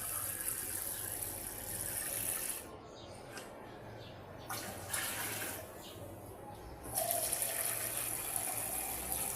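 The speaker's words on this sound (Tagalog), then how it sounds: "napuno ko na itong lalagyan ng tubig" Water runs through a water filter into a container, a steady trickling gush with a few brief pauses and changes in flow, fairly close, with no talk heard.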